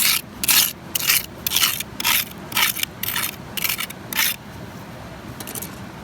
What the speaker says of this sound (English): we will start doing some crevicing